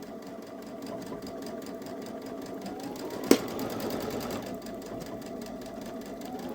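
A Baby Lock Solaris sewing machine runs steadily while darning with a buttonhole foot, a continuous close mechanical whir with a single sharp click partway through as it finishes with a tie-off stitch.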